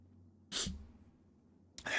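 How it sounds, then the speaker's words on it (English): A single close, sharp sneeze bursts out, followed by a quiet pause and the start of another sneeze. "I have a sneeze coming."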